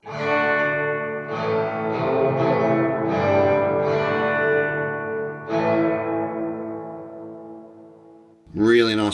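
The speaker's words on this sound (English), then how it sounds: "That, of course, is the reverb by itself." A few guitar notes and chords run through the Sonicake Pocketmaster's hall reverb alone ring and bloom into a long, slowly fading wash, and a voice cuts in briefly at the very end.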